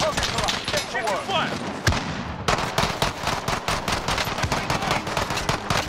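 Dense, rapid automatic gunfire and sharp shots in a Call of Duty Modern Warfare match, loud and continuous with bursts overlapping, one heavy crack near two seconds, with voices talking underneath.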